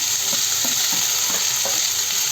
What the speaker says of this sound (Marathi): ही काकडी आपण कट केलेली आहे ते आपण इथे घालून घ्यायचं